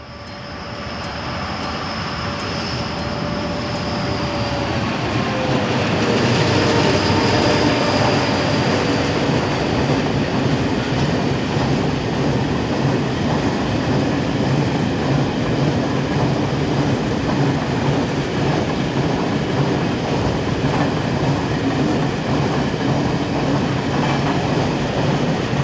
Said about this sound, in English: Here it heads a set of empty coal hoppers.